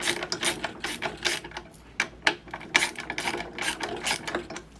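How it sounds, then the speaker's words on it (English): A hand ratchet with a deep socket tightens lock nuts on a MaxiClimber Classic roller, giving off a steady run of crisp, close clicking bursts in quick rhythmic strokes, with no talk. "This ratchet just paid for itself."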